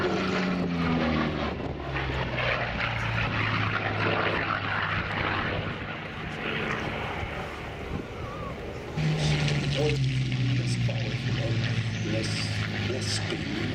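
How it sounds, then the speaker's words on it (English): Propeller airplane flying at the Flying Legends 2012 airshow, its engine drone loud and steady with shifting pitch as it passes, a continuous roar throughout with someone talking over it. "capability of this airplane to seemingly effortlessly climb up the sky or accelerate very smoothly on the water."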